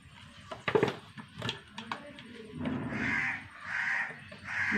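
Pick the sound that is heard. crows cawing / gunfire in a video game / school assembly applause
crows cawing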